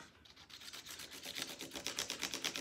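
Coloring on the tail of a paper fish craft, close rhythmic scratchy rubbing strokes that start soft and grow louder and quicker toward the end, with no talking.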